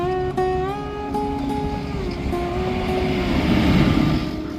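Train at Manoharpur railway station in India, a loud continuous rumble of carriages with steady tonal whine and squeal, building in intensity toward the end, no talking.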